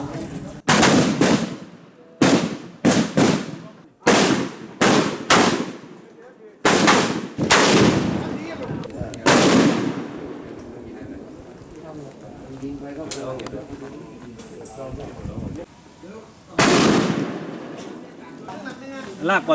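M16A2 rifle shots crack at an outdoor shooting range during rifle zeroing, loud single and rapid bursts in irregular clusters with gaps between, while people talk nearby.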